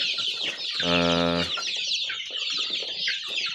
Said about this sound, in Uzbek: Bu jo'jalarimizning nomi Xanxian degan jo'jalar. Qarang, Xanxian qizil tovuq bo'ladi bular.